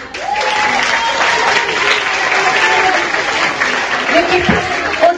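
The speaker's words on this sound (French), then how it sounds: "On applaudit." Dense applause from a school audience at a teachers' day event, steady rapid clapping filling the room for several seconds with a faint murmur of voices underneath.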